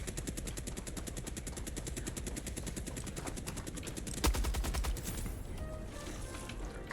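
Rapid automatic gunfire from a heavy-recoil weapon in the Helldivers video game, a steady fast stream of shots throughout with a louder burst near the middle, ending in a quieter tail.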